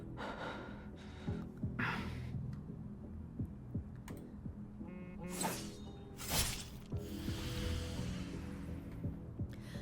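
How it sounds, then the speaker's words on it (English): Xavier, a character in the Love and Deepspace video game, grunts and breathes heavily amid gasping breaths and snorts, set against a steady game soundtrack with repeated sharp bursts of action sounds. "You guys hear the grunting? You guys hear his breathing?"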